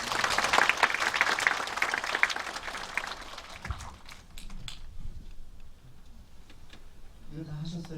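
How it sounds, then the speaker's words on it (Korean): Lecture audience applauding as the CEO is invited on stage: a dense, loud burst of clapping for about four seconds that thins out, then quieter room noise with scattered claps and a voice near the end. "박수 부탁드립니다."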